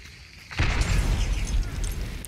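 A frag grenade goes off in Hunt: Showdown, a sudden loud booming blast after a quiet moment, followed by a sustained rumbling roar that lingers for nearly two seconds, heard alone.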